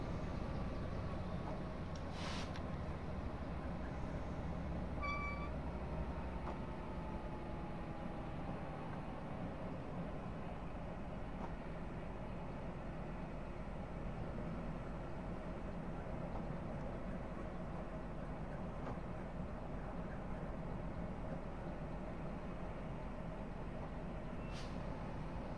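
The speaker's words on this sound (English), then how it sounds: "So we got a little bit of fast travel out of this train today" On board a Class 66 freight train hauling OTA empties through suburban Glasgow: a steady, loud rumble of wheels and engine runs unbroken for the whole stretch, with faint high squeals now and then and no voices.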